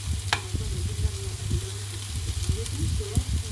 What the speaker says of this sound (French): si vous voulez les poivrons, oignons, je vais les mélanger là-dedans